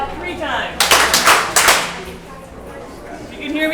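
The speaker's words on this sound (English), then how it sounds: "If you can hear me, clap twice." Audience at a food and farm cooperatives talk clapping together on cue, a few loose group claps bunched near the middle, with speech before and after.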